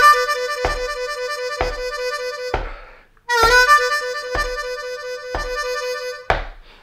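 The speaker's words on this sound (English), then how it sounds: "we're just playing a 4/5 draw warble" A harmonica warbles between the 4 and 5 draw holes in repeated pulsing bursts, each held for several beats and then stopped briefly, close and clear with no voices.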